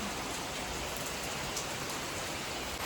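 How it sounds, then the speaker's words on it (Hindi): Heavy rain pours steadily on an April morning in a hill village, a dense, unbroken hiss of drops hitting surfaces all around, loud and constant with no voices over it. "इतनी घनघोर बारिश हो रही है ना सुबह से ही"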